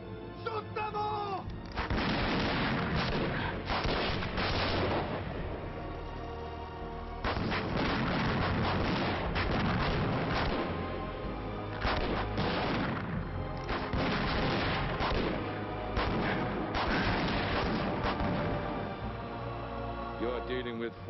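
Heavy gunfire from a movie battle scene: loud bursts of rapid shots and booming blasts come in waves, with short pauses between them and voices shouting among the shots.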